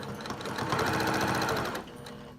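A sewing machine runs steadily, stitching a quilt block in one continuous close-up burst of rapid, rattling needle strokes. The motor winds down near the end, and no one speaks.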